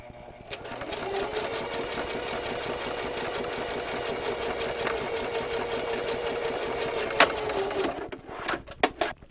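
A sewing machine runs a steady, fast stitching whir while sewing a seam on a cushion for a sailboat settee-bed. It slows and stops near the end, followed by a few clicks and knocks.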